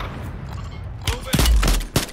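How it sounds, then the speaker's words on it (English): Call of Duty Modern Warfare 3 Warzone gunfire cracks in a quick burst of sharp, loud shots after a quieter lead-in, close and punchy. "Being shot from a different team."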